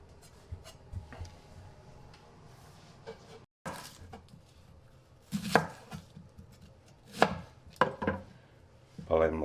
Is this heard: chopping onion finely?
yes